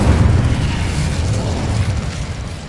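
A loud, roaring burst of magical fire from the Incendio spell in Hogwarts Legacy, a dense rumbling blast that holds steady for a few seconds with low booming weight throughout.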